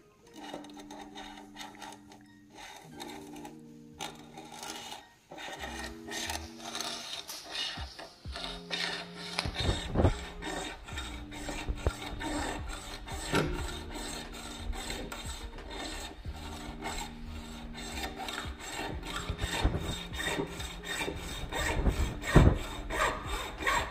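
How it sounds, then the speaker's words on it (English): Hand sawing through a Sizzix Sidekick die-cut frame to cut it in half, with steady repeated rasping strokes, close and fairly loud, alone without talk. "I'm back to show you how to cut this Sizzix Sidekick frame in half"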